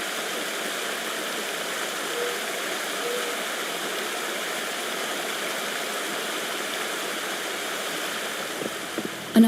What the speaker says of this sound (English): There's something behind the waterfall.